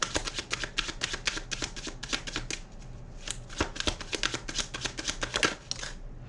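Tarot cards shuffled and drawn during a chakra reading, close, crisp riffling bursts in quick irregular succession, with a brief lull midway before another run of shuffling, no talking.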